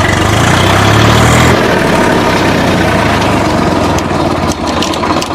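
A 2020 Swaraj 742 XT tractor engine runs loudly in gear, a heavy, continuous low diesel drone close by with a brief higher tone early on and slight load changes near the end.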